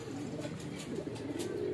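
Pigeons coo softly and continuously as a flock of homing birds is released outdoors, with steady low calls and no talking.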